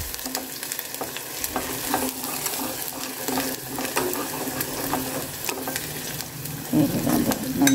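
Onions fry with ginger-garlic paste in a pan for tomato rice, giving a steady, close sizzle with scattered scraping and clinking stir strokes that grow louder near the end.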